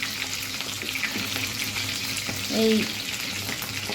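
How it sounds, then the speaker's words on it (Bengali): Fish heads frying in hot oil, a dense steady sizzle heard up close, with a brief voice breaking in near the end. "তেলের মধ্যে মাছের মাথা দিলে কী যে করে। মাথাগুলি একটু আমি ভেজে নেব"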